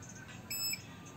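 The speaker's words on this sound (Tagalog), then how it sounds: "May buzzer pa siya." A handheld gold scanner and long-range metal locator gives a single short electronic buzzer beep, moderately loud against a quiet background.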